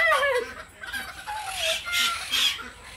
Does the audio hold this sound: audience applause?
no